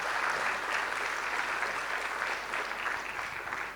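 An audience claps steadily at an environmental awards event, a dense, sustained wash of applause that stays loud throughout and tapers slightly at the end, with no voices over it.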